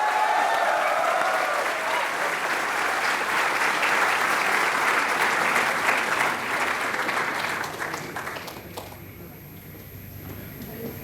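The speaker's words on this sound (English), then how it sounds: "let's call him on the stage with a huge round of applause" Audience applause from a crowd of mostly students welcoming Ola founder and CEO Bhavish Aggarwal onto the stage at a fireside chat, steady and full for about eight seconds before thinning toward the end.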